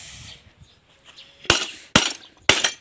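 A mirror is struck and breaks, with three sharp, loud cracks of shattering glass a half second apart after a quiet stretch of faint rustling, close up and without speech.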